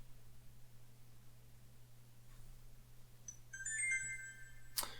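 A short SMS notification chime rings out on a phone near the end, a few bright tonal beeps over a faint hiss and steady low hum.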